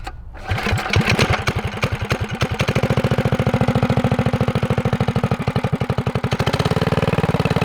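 A custom full-suspension mini dirt bike engine catches after a short start and settles into a loud, close, rapid putt-putt idle, its regular firing pulses steady for several seconds with a slight change near the end.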